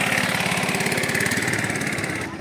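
A motorboat engine at Nga Nam idles close by with a steady, rapid chugging pulse, loud and unbroken, before dropping away abruptly at the very end.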